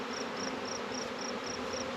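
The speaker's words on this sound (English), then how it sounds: "there are a lot of bees in here." Dense, continuous buzz of many honeybees from a captured swarm inside a hive box, close and steady throughout, with a faint repeating electronic beep above it and no voices.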